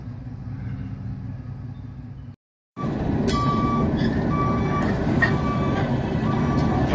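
A short coal train rolls in and down the runaround track beside a derailment repair site, a steady rumbling drone with squealing tones, nearby and loud, briefly cut to silence before resuming.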